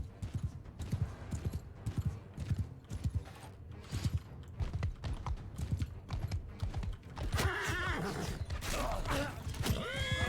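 A horse neighs in the battle game Mount & Blade II: Bannerlord, a loud whinny in the closing seconds after a stretch of rhythmic hoofbeats and clashing combat noise.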